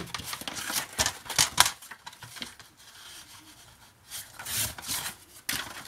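Paper being cut for a Tim Holtz-style small scrapbook folio, heard as close, crisp snipping and rasping bursts in two clusters with a quieter pause between, no talking.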